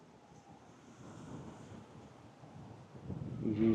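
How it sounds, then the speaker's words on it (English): Strong wind blowing outdoors, a steady low rumble buffeting the microphone, rising into heavier gusts toward the end, with no voices. "The wind is blowing hard and it's going to get cold."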